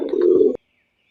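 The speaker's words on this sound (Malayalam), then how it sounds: "പിന്നെ നമുക്കിവിടെ വീട്ടിൽ ഇഷ്ടംപോലെ പ്രാവുകളുണ്ട് കേട്ടോ." Pigeons kept at a house give a single soft, low cooing call lasting about half a second, close by, then silence.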